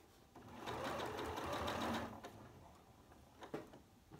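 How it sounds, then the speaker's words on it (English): Close up, a sewing machine stitches crumb-quilting fabric scraps together in one steady run of about two seconds, followed by a few soft clicks and handling sounds. "I could sew this to this piece of fabric."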